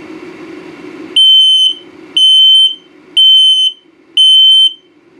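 An RV detector's low-battery alarm in a 2022 Palomino Puma 28DBFQ trailer sounds four loud, shrill electronic beeps, each about half a second long and evenly spaced, over a quiet background hum.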